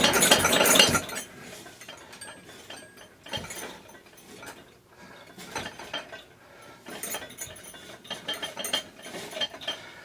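A bottom bracket thread tap is backed out of a bicycle frame's threaded shell, giving bursts of metallic ratcheting and clicking in uneven spurts with quiet pauses between, close and moderately loud, with no voices.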